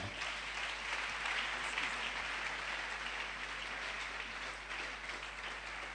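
A church congregation applauding during a sermon, dense and steady clapping from many hands filling the room without letup.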